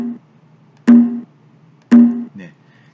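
Two bongo drum hits triggered by pressing the left-arrow key in a Makey Makey bongo app, each a short pitched thump with a brief ring, about a second apart and clear against quiet.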